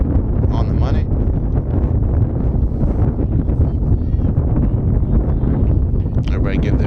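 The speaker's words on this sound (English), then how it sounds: "extremely windy game today" Strong gusts buffet the microphone at an outdoor high school softball game, Albert Gallatin against Hempfield, a steady low roar running throughout beneath commentators talking.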